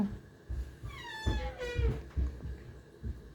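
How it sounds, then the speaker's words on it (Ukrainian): A female cat meows several times in drawn-out, rising and falling calls, close and moderately loud, with small thumps and handling noise between them. "Головне не до Маркуса нявкає, а до Моніки"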